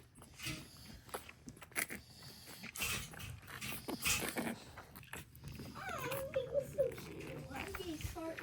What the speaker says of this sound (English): When you run into a puppy doing this, do not be afraid.